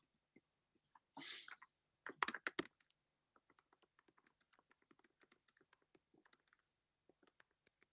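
Fingers type on a computer keyboard, a quick burst of clustered key presses followed by sparse, light clicking taps, close and quiet, with no voices.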